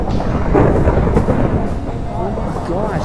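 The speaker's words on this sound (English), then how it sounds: "Gosh, why is it thundering so much?" Heavy rumbling thunder in Minecraft Pocket Edition rolls on continuously beneath steady rain, loud and close throughout.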